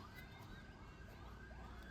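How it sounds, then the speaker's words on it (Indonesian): An ambulance siren wails in Aceh, its rising and falling tone steady over a low rumble of street traffic and sounding somewhat distant and faint. "Ambulan guys."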